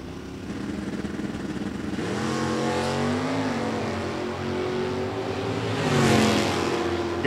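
Drag race cars in a stock eliminator qualifying cleanup session at Great Bend, with a steady loud engine drone that rises and swells toward the end, and no voices.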